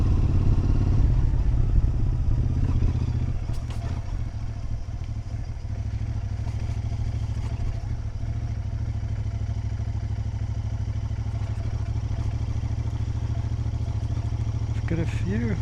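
Motorcycle engine droning steadily during a ride on wet backroads, a low continuous hum with wind noise, louder at first and then settling, with occasional faint clatter and no talking.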